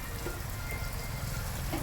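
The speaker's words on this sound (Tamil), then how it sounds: "இடியுடன் கூடிய கனமழை பெய்து வருகிறது" Heavy rain pours steadily in a dense, even hiss close by, with no thunder evident in this short stretch.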